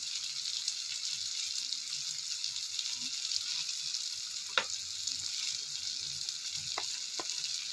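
Chilli, turmeric, coriander and chicken masala powders fry in a pan for a prawn fry, a steady close sizzle with a few sharp scrape clicks of stirring.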